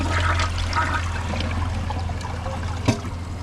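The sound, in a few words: toilet flushing a grocery bag and microfiber towels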